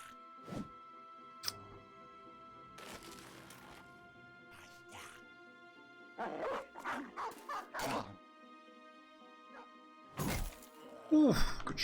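Several war dogs barking and yelping in a Battle Brothers battle, short bursts scattered among game combat thwacks and clatter, at moderate loudness.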